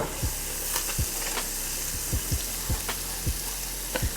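Butter and diced onion sizzle steadily in a skillet, a continuous close frying hiss broken by periodic low thumps, likely from stirring or scraping the pan.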